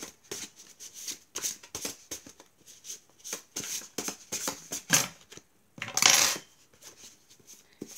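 Tarot cards drawn and laid out during a reading, a series of sharp, close clicks and taps on a surface in an irregular rhythm, with one longer rustling swipe near the end.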